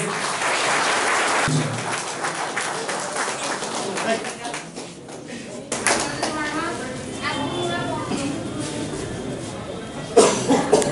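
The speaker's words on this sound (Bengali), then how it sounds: "একটু জোরে হাততালি হোক।" Crowd clapping at a prize ceremony for Durga idol clubs in Tripura, scattered applause mixed with voices, coughs and bumps, uneven and moderately near, with talk running through it.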